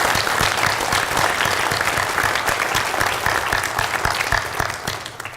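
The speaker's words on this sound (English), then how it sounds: "So if you all could give him a round of applause." An audience applauds at a high school hall of fame induction, a dense, loud, steady clapping from a large crowd throughout, with no voices rising above it.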